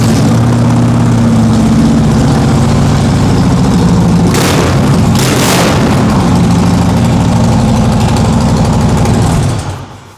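A vehicle engine running at idle, a loud close low rumble that stays steady for several seconds with a brief rougher burst midway before cutting off at the end.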